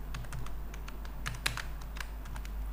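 Quiet, steady typing on a computer keyboard while entering HTML and CSS code, a run of light clicks at an uneven pace with one sharper keystroke, heard alone under a low hum.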